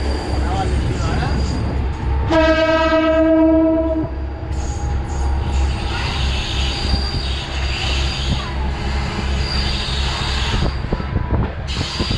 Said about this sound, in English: local train is currently arriving at its terminal station